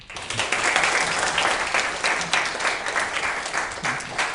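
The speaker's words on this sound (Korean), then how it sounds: "네, 박수 한번 쳐주시죠." Applause from an audience at a university talk, with dense, steady clapping that holds loud for the full few seconds and swells in places, without speech over it.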